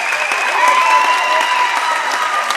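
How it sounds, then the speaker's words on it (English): Loud, sustained applause and crowd noise from basketball fans at a Class M regional game between the Wayne City Braves and Woodlawn Warriors, honoring players at season's end, with faint voices and a whistle-like tone underneath. "both groups of fans are going to give a big round of applause to their players"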